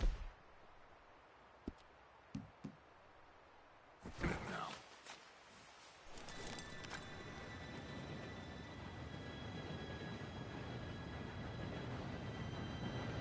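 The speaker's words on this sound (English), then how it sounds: "Train should be here any minute now." A steam train in Red Dead Redemption 2 drawing near: scattered faint clicks and a rustling burst, then a low rumbling clatter swells and holds steady with a thin whistle-like tone riding on top.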